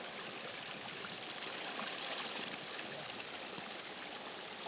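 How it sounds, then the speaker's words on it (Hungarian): A small stream trickles beside a mountain hiking path at about 700 metres, a faint, even wash of running water with no speech. "csordogál egy kis patak is"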